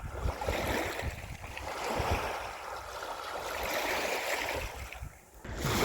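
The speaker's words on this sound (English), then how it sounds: "I feel like trying to get down there to get a proper shot of the waves." Sea waves wash along the Isle of Sheppey shore near the Thames and Medway estuary, a moderate rolling surf with wind rushing across the microphone and no voices.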